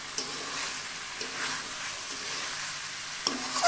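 Chicken curry with potatoes fries in oil in a pan over a low flame, giving a steady, moderately loud sizzle with light stirring scrapes and a couple of sharper clinks near the end.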